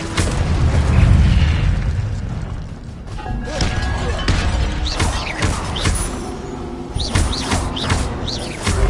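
An Incendio fire spell cast in Hogwarts Legacy on PS5, a loud whooshing burst of flame that swells then settles into crackling fire, with several sharp chirping spell effects following, no talk.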